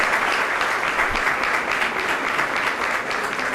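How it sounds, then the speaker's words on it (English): Dense audience applause fills a school annual day hall, steady and loud throughout with no voices breaking through. "A louder round of applause to Noshirwan Kayani."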